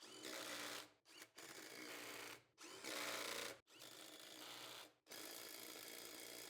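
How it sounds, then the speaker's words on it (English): An impact wrench tightens lug nuts on a Toyota Tacoma wheel fitted with a new all-terrain tire, loud rattling bursts in four or five runs separated by short pauses, close by. "Using the impact will make sure that we get a really positive connection between the actual wheel and the brake and the axle."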